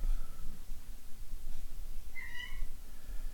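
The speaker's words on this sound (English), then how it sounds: "You can hear my cats fighting in the background" Domestic cats yowling and meowing in a brief squabble somewhere in the background, a short tonal cry standing out faintly over a low room hum with no talk.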